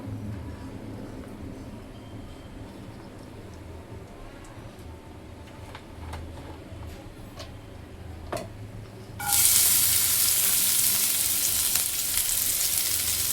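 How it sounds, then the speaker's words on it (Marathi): Ginger, garlic and green chili hit hot oil, a soft crackle that jumps to a loud, steady, hissing sizzle partway through, close by with no talk. "आता याच्यामध्ये मी टाकते ऑइल, अद्रक लसूण आणि ग्रीन चिली."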